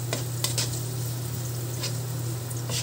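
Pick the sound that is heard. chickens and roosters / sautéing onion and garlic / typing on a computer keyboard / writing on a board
sautéing onion and garlic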